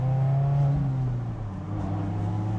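A Mazda Miata ND engine with a Goodwin Racing race muffler revs steadily with a deep, throaty exhaust drone, close and loud, holding a sustained low rumble throughout.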